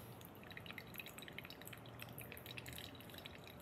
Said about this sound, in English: It's still dripping out a little bit.